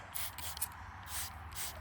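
A short, close spray hisses in two bursts at the entrance of a swarm hive holding a few bees, with a soft rubbing texture between the bursts and a low hum underneath.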